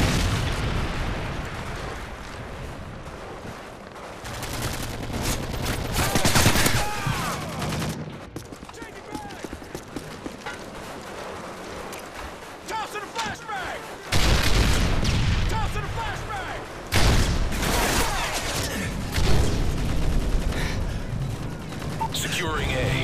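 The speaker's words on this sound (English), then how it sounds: "Friendly Predator missile inbound." Dense, loud video game combat on the Outpost map as a Predator missile strike lands, with repeated explosions and sustained gunfire bursts in waves and game voices calling out over the battle.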